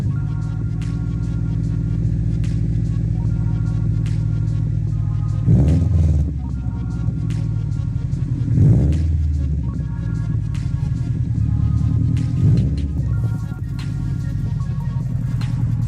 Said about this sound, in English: I thought you were gonna rev it up and all that.